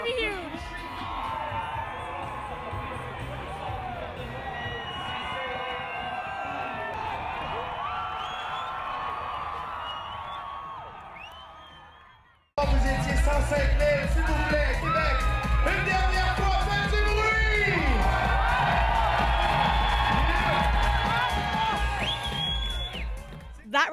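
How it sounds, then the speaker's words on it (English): Crowd cheering and yelling at Red Bull Crashed Ice, the ice-cross downhill skating race in Quebec City, a dense sustained roar that grows louder after a sudden cut, with whoops throughout. "it's Red Bull Crashed Ice, and the crowd is absolutely nuts"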